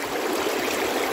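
River water flowing in a steady, dense rushing wash, close and continuous, a brief unbroken stretch with no voices.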